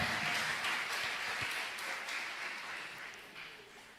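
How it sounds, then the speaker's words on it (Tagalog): A church congregation at a JMCIM preaching service breaks into loud, dense applause that holds steady and then slowly fades over about four seconds, with no voices over it. "Malakas na palakpak para sa mahal Panginoon."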